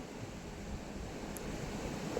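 Fine water mist hissing steadily from a row of ten nozzles, fed with RO waste water to cool plants against harsh summer heat; a soft, continuous broadband spray with no voices.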